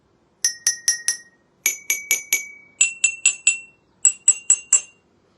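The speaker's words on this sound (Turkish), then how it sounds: "Evet aslında bardaklarımın hepsi aynı. Hepsine aynı şiddette vurdum." Identical drinking glasses filled to different water levels are struck one after another with a spoon at equal force, four groups of four bright, clear rings, each a short chime with a brief decay and a pitch that shifts from group to group.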